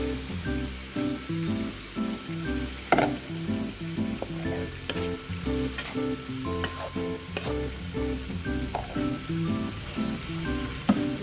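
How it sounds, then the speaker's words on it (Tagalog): Coconut milk goes into a hot cooking pot for the second time and sizzles and bubbles steadily, close and fairly loud. A few brief clinks and stirring sounds come from the pot, with no one talking. "ilagay na natin ang pangalawang gata"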